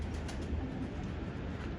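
A pigeon coos softly and briefly amid faint background noise, heard alone without talk.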